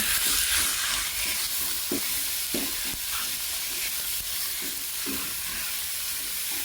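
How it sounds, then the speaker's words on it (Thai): Pork sizzles in hot oil with shiitake mushrooms, a loud steady frying hiss throughout, punctuated by occasional stirring scrapes and clinks, close up with no speech. "หลังจากนำเห็ดหอมไปเจียวน้ำมันนะคะ แล้วก็เฮียเขาก็จะใส่หมูเข้าไปค่ะ"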